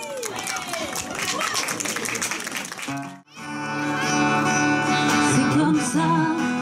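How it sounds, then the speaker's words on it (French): An outdoor summer festival audience applauds the musicians, a dense wash of clapping and crowd noise heard over a voice. After a brief gap, the band starts playing with sustained notes. "Vous pouvez applaudir"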